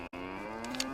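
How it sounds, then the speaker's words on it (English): A single low, drawn-out cow moo in the video game DayZ, holding a steady tone, close and clear, with a brief cut at the start. "There's 3 cows here."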